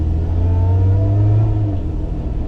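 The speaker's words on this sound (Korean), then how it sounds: "이 2GR 엔진의 이 절묘한 사운드" A Lotus Emira's Toyota 2GR V6 engine hums and revs with a smooth rising drone from inside the cabin, then eases off as the pitch settles.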